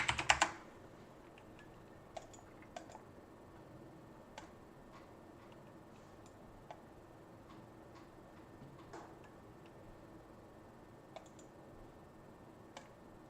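Sparse, quiet keyboard keys and mouse clicks from a player in World of Warcraft, tapping in irregular single clicks over a low room hum after a brief louder burst at the start.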